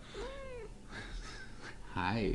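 A pet cat meows close by, a drawn-out rising call followed by a louder second meow, while someone says a brief greeting in between.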